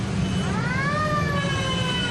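An ambulance siren wails in a rising and falling sweep through heavy, congested traffic, steady and fairly loud over a dense rumble of engines.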